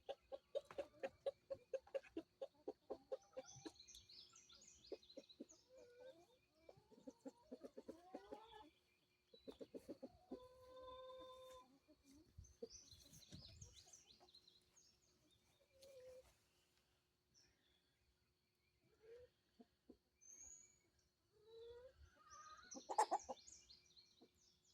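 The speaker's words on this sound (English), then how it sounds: "These chickens here are called Dominickers, or Dominiques" Dominique chickens cluck and chatter nearby in a quiet setting, with bursts of soft clucking and a few higher squawks scattered across the scene, no talking.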